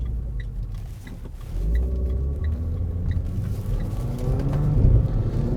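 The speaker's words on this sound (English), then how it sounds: "you can rev it and it won't change up for you automatically." Renault Clio 220 Trophy engine revs inside the cabin, a low rumble that rises and falls, with the pitch climbing toward the end as it is pushed higher.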